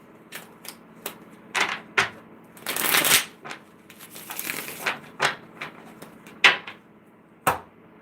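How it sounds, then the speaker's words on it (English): Tarot cards being shuffled in a series of crisp riffles and flutters, with a longer burst in the middle, close up and fairly quiet. "Shuffle this up."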